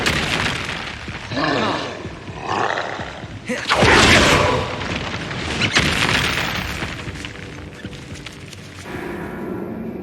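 Confringo spell blast in the wizarding game Hogwarts Legacy, a loud booming burst with a rumbling roar, set among continuous game effects and a voice calling out.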